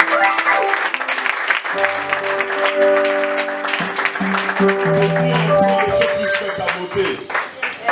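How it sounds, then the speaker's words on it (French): A church congregation claps and cheers loudly for God, with steady applause and raised voices mixed over sustained tones for several seconds. "est-ce que tu peux acclamer pour Dieu?"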